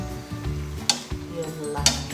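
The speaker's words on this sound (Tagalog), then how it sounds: "Stir-fried chicken breast with broccoli and some other veggies" Chicken breast stir-fried with broccoli and other vegetables sizzles steadily in a pan, with two sharp scraping stirs standing out over a short, close burst.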